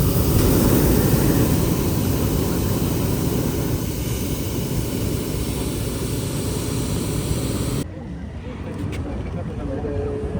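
A steady, loud roar of an aircraft flying above the pyramids in Mexico fills the whole stretch and drops noticeably in level near the end, with a voice talking over it.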